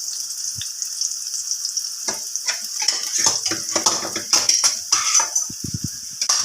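Chopped onion and garlic sizzle and fry steadily in a hot pan for a mung bean stew, with a spoon stirring and scraping against the pan now and then and occasional clinks of utensils.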